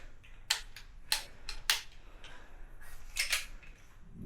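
Stock being worked off a Double Eagle Noveske airsoft rifle, sharp plastic and metal clicks and snaps in an uneven series, close up over faint background noise.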